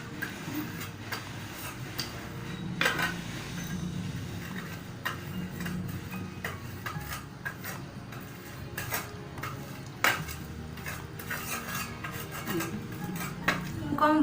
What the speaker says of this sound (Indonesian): tumbuk ragi tape hingga halus